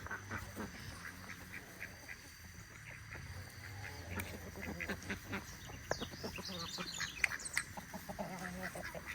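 Ducks on a food-forest farm in Paraguay quack repeatedly nearby, bursts of calls scattered over a soft background hum, with faint voices mixed in.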